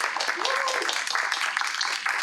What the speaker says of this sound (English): we're going to wrap up our panel with giving a big applause to all of our panelists